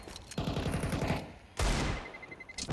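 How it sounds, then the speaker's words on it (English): In Counter-Strike on the Mirage map, during an ESEA Advanced league match, a grenade blast and clattering gunfire come through as two loud bursts with a brief lull between them. "Nade makes an appearance."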